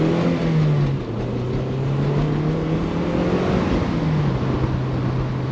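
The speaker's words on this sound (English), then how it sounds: "Just picks up so quick, this car." A Toyota MR2 with upgraded suspension accelerates hard along a road with corners, its mid-pitched engine revving loud and steady from inside the cabin, rising and shifting through the run.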